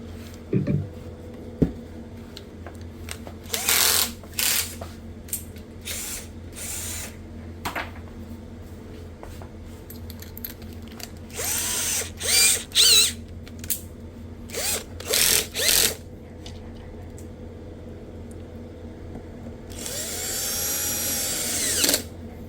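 An electric screwdriver tightens screws on a Marshall Kilburn 2 speaker that had water and moisture damage, in repeated short whirring bursts separated by pauses, close by, with a longer run near the end.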